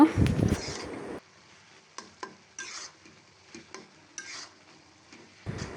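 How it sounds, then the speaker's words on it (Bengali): Turmeric is stirred into a jackfruit fry with masoor dal in a pan: a burst of scraping at first, then separate spoon scrapes and light clinks over a soft sizzle. "হলুদটা ভাজির সাথে নেড়েচেড়ে মিশিয়ে দিব।"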